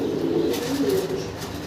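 Muffed helmet pigeons coo steadily in low, rolling murmurs, close and continuous with no talking.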